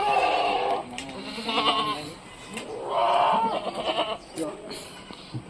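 Several close goat bleats, quavering and drawn out, come one after another amid ongoing human talk.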